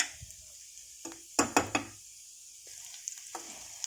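Beetroot pieces frying and being stirred in a pan, a steady soft sizzle punctuated by a few sharp knocks and scrapes of a spoon against the pan, close and clear with no talking.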